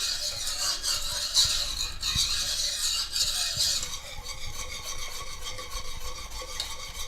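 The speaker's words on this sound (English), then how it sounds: "Just make sure you mix the milk in thoroughly." A spoon scrapes and rubs steadily around a pot as milk is stirred into chocolate pie filling over medium-high heat, a continuous close-up scraping sound with a voice talking briefly at the end.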